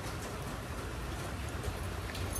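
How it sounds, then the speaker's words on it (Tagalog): Heavy rain pours steadily in a dense, unbroken hiss, loud and close, with no voices over it. "Grabing ulan."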